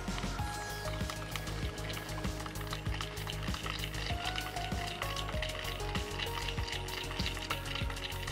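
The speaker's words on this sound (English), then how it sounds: "Give it a good old stir." Pink powder being stirred into craft resin for a coaster, a dense, continuous run of quick scraping and clicking strokes close by, with faint tonal sounds in the background.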